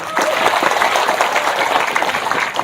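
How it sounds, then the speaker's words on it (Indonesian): An audience at a speech breaks into applause, a dense, steady patter of many hands clapping that runs without pause for a couple of seconds and holds a fairly loud, even level. "Tepuk tangan dulu."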